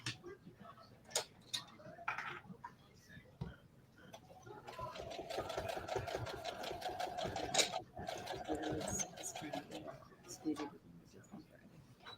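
A home sewing machine stitches a quilt block in a steady, rapid run of needle strokes, fairly quiet and close, starting and stopping in short bursts across the clip.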